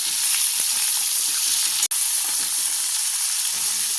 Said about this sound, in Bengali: তেল গরম হয়ে গেছে এবার মাছগুলো দিয়ে দেবো মাছগুলো একটু উল্টো পাল্টা আমি ভেজে নিচ্ছি